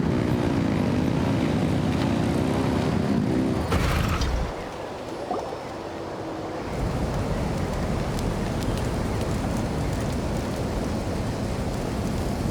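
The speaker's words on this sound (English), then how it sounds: "Rev the engines!" Engines revving in the video game Genshin Impact, a steady loud droning roar that dips and quiets for a few seconds midway, then resumes at full strength, with no talk.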